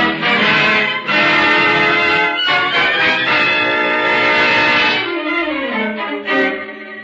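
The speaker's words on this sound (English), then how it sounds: "Pretty, all them foghorns." Loud, sustained foghorn blasts sound one after another over a foggy harbor, deep and droning with harmonic tones, overlapping and fading toward the end.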